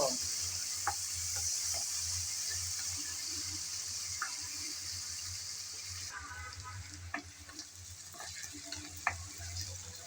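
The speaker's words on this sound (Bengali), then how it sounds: "পেঁয়াজ কুচি দিয়ে নেড়ে চেড়ে ব্রাউন কালার করে পেঁয়াজ ভেজে নেব" Onions sizzle steadily in a pan while being stirred, with a constant frying hiss, low hum underneath and scattered scraping clicks from the utensil.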